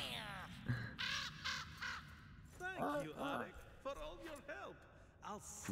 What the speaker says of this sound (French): Le corbeau.